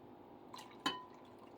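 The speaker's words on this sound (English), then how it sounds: "basically adding water until you can get all those chunks dissolved" Water is poured into a chunky piña colada foaming hand soap mixture, giving a couple of brief, faint drips and a small splash against a quiet background.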